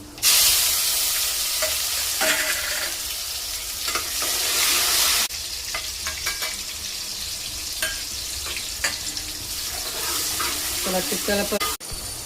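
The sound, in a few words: tomatoes frying in hot oil for sambar tempering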